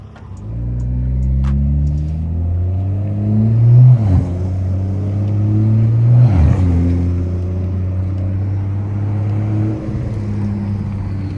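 A car lowered on coilovers, now fitted with a front lip, drives along with a steady low engine drone and road rumble that swells briefly a couple of times, no voices present.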